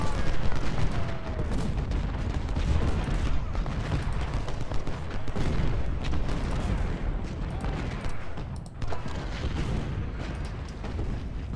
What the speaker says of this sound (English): Now the artillery's starting to hit him a little better.